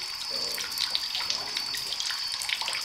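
Water from a stalactite in a cave near a lake trickles and splashes steadily, a close, continuous wet flow with small drip-like spatters throughout and no voices.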